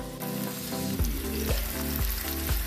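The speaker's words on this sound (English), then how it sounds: "Hear that sizzling?" Olive oil sizzles in a frying pan, a dense steady crackle that carries throughout, punctuated by a few rhythmic taps or stirring knocks, close and loud without any talk.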